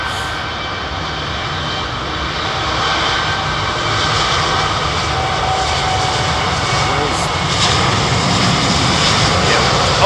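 Virgin jet aircraft at London Heathrow Airport, a loud, broad roar of engines that holds steady and slowly builds over ten seconds, with low overcast weather and voices faintly beneath it.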